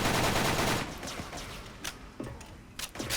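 Bursts of L85 rifle fire in a Halloween ghost-hunting shooter: a loud sustained stretch at the start, then a few short separate shots spaced out over the remaining seconds.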